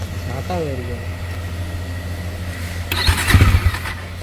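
A Bajaj Pulsar NS400 motorcycle, fresh and low on fuel, idles with a low steady throb under a brief spoken phrase, then cranks and catches with a louder burst of engine noise near the end.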